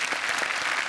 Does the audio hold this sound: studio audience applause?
yes